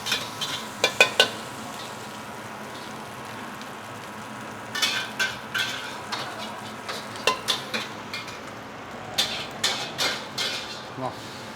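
Nasi goreng (fried rice) is stir-fried in a pan at a food stall, with scraping and clattering utensil strikes in irregular bursts over a steady low sizzle. No one speaks over it.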